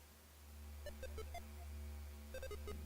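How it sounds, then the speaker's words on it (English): Quiet electronic beeps and boops in two short bursts of stepped, rising and falling tones over a low steady hum, like a retro game spaceship. "The alien spaceship is going to weave and bob around with little beeps and boops in the background"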